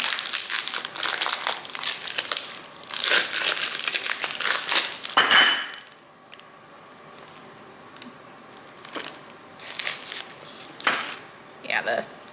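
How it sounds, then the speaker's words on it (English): Plastic wrap being cut and pulled off raw beef in a kitchen, giving bursts of close crinkling and rustling that stop about halfway, followed by a few scattered softer crinkles and handling noises. "I am gonna try to cut this plastic wrap off just so it's not leaching into my meat here."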